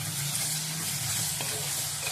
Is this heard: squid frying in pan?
yes